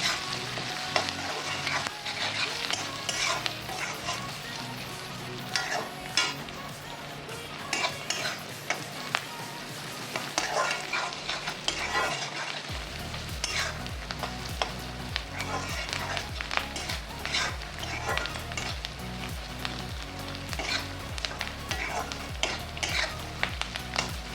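Dry fish frying with masala in a pan, stirred throughout: a steady crackling sizzle with scraping and clinking stir strokes over a low background hum, no voices.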